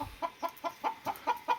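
Native chickens cluck in a steady series of about eight short, evenly spaced calls, close and clear against a quiet background.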